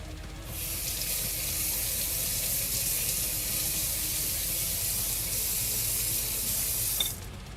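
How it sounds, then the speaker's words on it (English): Water from a kitchen tap gushes steadily into a sink as carrots are rinsed, a loud continuous spray that stops abruptly near the end. "Just wash these carrots off."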